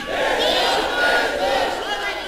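A large crowd at a religious gathering in Pakistan shouts slogans in unison, a dense, loud roar of many voices sustained throughout.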